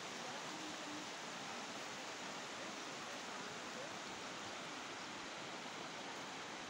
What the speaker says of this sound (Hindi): ये देखो झरने का नज़ारा यार, कितना अच्छा नज़ारा है झरने का